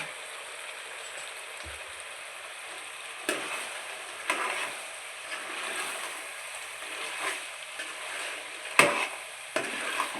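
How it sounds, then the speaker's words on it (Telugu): Chicken frying in a pan while being stirred, a steady sizzle up close with occasional scraping knocks of the spoon. "అన్నీ బాగా కలుపుకోవాలి మిక్స్ అయినట్టు."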